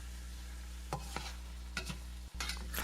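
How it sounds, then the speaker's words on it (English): A wok spatula stirs ground pork and tofu with black bean in a wok after the heat is off, a quiet low sizzle under a handful of distinct scraping strokes spaced irregularly, no speech. "I'm use the wok spatula to mix everything together"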